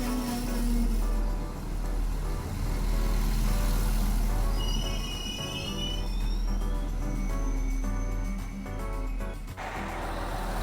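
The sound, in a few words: diesel railcar train idling at station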